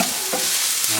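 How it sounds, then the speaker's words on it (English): Mushrooms frying in a hot pan give a steady, close, bright sizzle with light crackling throughout, no voices. "You can hear that sizzle, pan's nice and hot."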